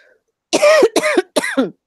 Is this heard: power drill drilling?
no